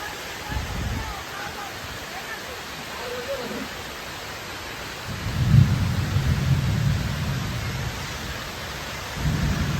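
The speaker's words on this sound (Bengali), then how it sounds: "বাইরে প্রচণ্ড ঝড় বৃষ্টি" A thunderstorm with heavy rain: a constant hiss of rainfall with deep rolling thunder rumbles near the start, a longer swell in the middle and another at the end.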